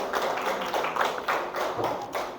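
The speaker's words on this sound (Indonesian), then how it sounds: "Tepuk tangan untuk semuanya." A classroom of students claps for all the groups after a maths lesson on 2x2 matrix determinants, a quick patterned burst of hand claps and taps with an uneven rhythm, moderately close.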